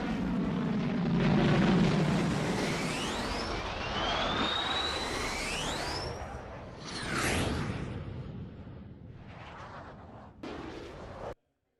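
A B-52 bomber and an intercepting military jet fly past, a loud sweeping aircraft roar with whooshing pitch-shifting passes that rise and fade, ending abruptly.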